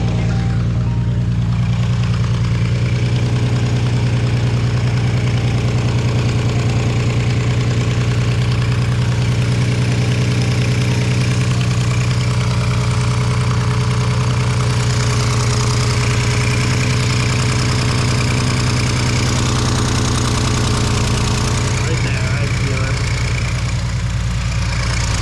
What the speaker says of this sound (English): so my exhaust leak's right here. I feel it coming out right here, so it's coming out of the manifold.